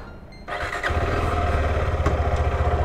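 A KTM 390 Adventure single-cylinder motorcycle cranks and fires up at close range, settling into a steady, loud, pulsing idle with no voices.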